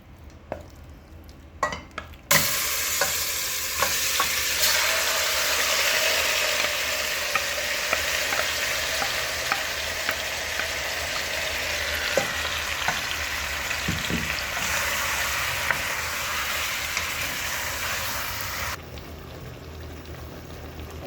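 Whole spices of cardamom, cinnamon, bay leaf and cloves frying in oil in a pan, a steady close sizzle that starts abruptly after a quiet opening with a few clicks, punctuated by stirring knocks, then cutting off near the end.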